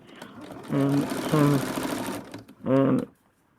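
A sewing machine chain-piecing fabric seams for a Halloween craft runs in two bursts, one long and one short, heard close and loud with speech mixed in.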